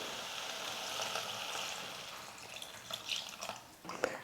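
Water poured into a pan of wilting arai keerai greens for a kuzhambu, a soft, fairly faint steady splash and trickle without speech, ending in a couple of brief louder splashes.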